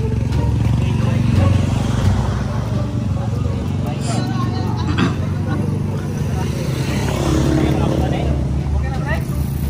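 A motorcycle engine runs steadily close by throughout, under loud overlapping voices during a group bike ride.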